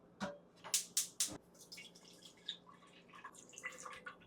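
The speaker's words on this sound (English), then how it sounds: "we're washing it off under warm water" Saltfish rinsed under running warm water, with a few sharp splashy bursts at first, then softer irregular trickling and dripping from a tap.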